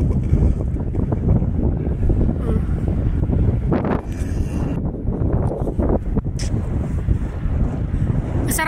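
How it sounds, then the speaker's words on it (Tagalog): Strong desert wind near Riyadh buffets the microphone in a steady, loud roar with gusty bursts, continuing throughout with no clear talk over it. "Ang lakas ng hangin, lakas oh."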